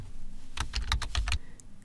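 Quick burst of computer keyboard typing, about eight close, crisp keystrokes in rapid succession, heard alone in a quiet room.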